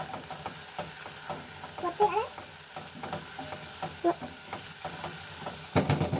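Onion frying in a pot for kabsa, a quiet continuous sizzle with frequent spoon stirs and scrapes against the pot, close up, and a louder clatter near the end.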